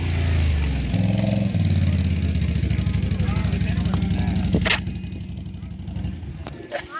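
A Can-Am Renegade 1000R ATV engine idles close by with a steady pulsing rumble, briefly revving before easing off, while people talk over it.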